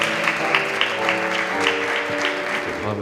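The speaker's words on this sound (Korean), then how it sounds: "큰 박수 부탁드립니다" Audience applause at a military recruit training center ceremony, steady dense clapping throughout with a sustained background tone underneath.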